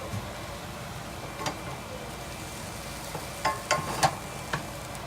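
Kale stirred in a sizzling pan while making beef medallions with mushroom sauce, a steady frying hiss underneath with a few soft scraping stir strokes near the end.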